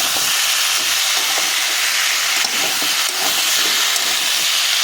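Moringa drumsticks stirred with pumpkin and potato in a hot pan give a loud, steady sizzle and hiss, close and continuous, with faint scrapes from stirring and no voices.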